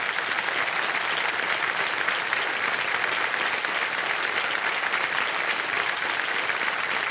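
A studio audience on a TV quiz show applauds a contestant, a dense, even roar of clapping that holds steady and loud for several seconds with no talk.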